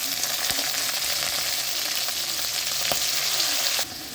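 Raw plantain frying in hot oil with mustard seeds, curry leaves and dried red chillies, a steady close sizzle throughout with a few sharp crackles and pops, no talking.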